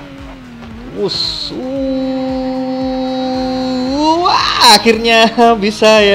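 A car drifts in the racing game Torque Drift with a long, steady tire squeal and engine whine that holds, then rises in pitch; someone talks briefly over the end.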